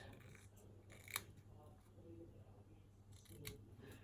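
Scissors cut a word out of card with a couple of faint, close snips over a quiet room.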